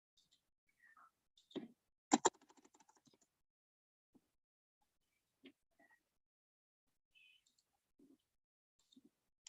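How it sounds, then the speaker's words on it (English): Computer keyboard keys tapped in a short, quick burst of clicks, followed by a few scattered isolated keystrokes in a quiet room. "So what we will do is we will just type here."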